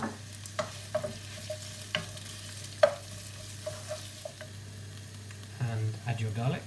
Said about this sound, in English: Here we have a glug of oil in a pan over medium-high heat, to which I'm going to add my onions.